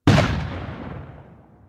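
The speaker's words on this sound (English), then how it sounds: "A cannon fires around 1:30 p.m." A single loud, booming Civil War cannon shot at Chickamauga fires once with a sharp blast, then a long rumbling decay that trails off over more than a second.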